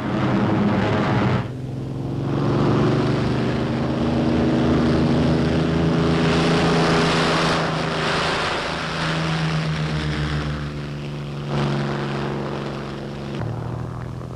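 World War II propeller fighters and bombers in flight: a loud, continuous droning roar of piston engines with steady harmonic hum, swelling and fading slightly as aircraft pass, with no voices.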